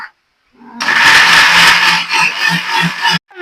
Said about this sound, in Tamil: நம்ம வந்து இப்ப மிக்சி ஜாருக்குள்ள போட்டுக்கலாம் நல்ல பேஸ்ட் மாதிரி அரைச்சு எடுத்துப்போம்